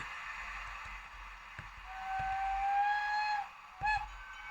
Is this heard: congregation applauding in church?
no